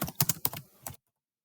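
Quick bursts of keystrokes on a computer keyboard while data goes into an Excel spreadsheet, a few close clicks in a short run ending in abrupt silence.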